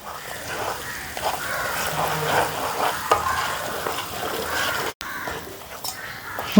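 Spices with Kashmiri chilli powder and turmeric fry and sizzle in hot oil for a quick mango pickle, a steady crackle with some stirring, close by, with no talk.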